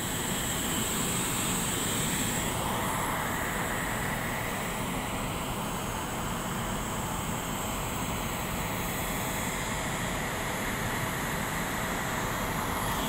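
Auxiliary power unit of a Garuda Indonesia Boeing 777-300ER, a steady broadband roar with a high whine, heard outdoors at an airport, continuous and fairly loud throughout with no breaks.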